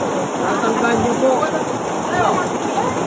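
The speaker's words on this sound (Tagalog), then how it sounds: "Umuulan po." Steady rain falls outdoors in a Tondo, Manila neighborhood, a dense close hiss of drops on surfaces running continuously while someone speaks over it.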